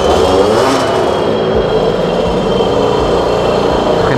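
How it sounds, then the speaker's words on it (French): A Sherco Factory supermoto motorcycle engine fires up on the first kick and settles into a loud, steady running drone close by, with no voices over it. "Premier coup de kick, ça part."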